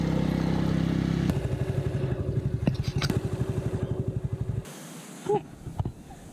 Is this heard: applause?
no